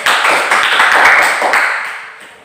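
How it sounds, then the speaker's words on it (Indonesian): A classroom of students claps for a classmate, a brief, loud, dense round of applause that swells for a moment and then fades out over about two seconds. "Tepuk tangan untuk Grace."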